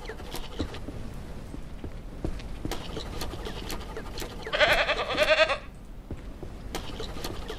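Goats bleat on a ranch in the farming game Ranch Simulator, a short burst of several overlapping bleats rising over steady barnyard background noise with scattered small clicks and knocks.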